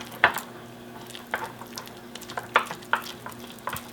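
A spoon scrapes and taps around a bowl as keto carrot mug cake batter is mixed, with irregular soft clinks and scrapes over a low steady background hum.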